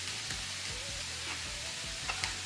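Chopped green onions sizzle in a covered pan, a steady close frying hiss with soft crackles and a few faint scrapes, no talking.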